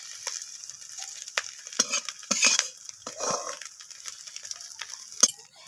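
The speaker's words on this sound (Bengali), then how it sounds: "তো এই ডিমটাকেও আমি নাড়াচাড়া করে একসাথে মিশিয়ে নিয়ে ভেজে নিচ্ছি।" Egg being stirred and fried in a wok, with a spatula scraping and clinking against the metal in irregular strokes over a soft sizzle, close and fairly quiet, no voices.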